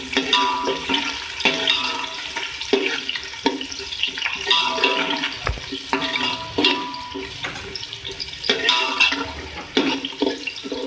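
Onions sizzle and crackle in a hot pan, with scraping and stirring sounds mixed in throughout.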